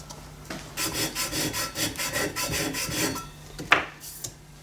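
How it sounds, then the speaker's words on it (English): Metal is hand-sanded with a 120-grit abrasive block under firm pressure: a run of about ten quick, rhythmic rasping strokes, close and distinct, ending with a sharp scrape and a pause. "I put a new piece of abrasive on the block and I've been putting a lot more pressure on it"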